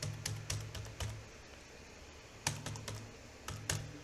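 Keys clack on a computer keyboard in short bursts of quick taps with pauses between, close and fairly quiet, as a password is typed.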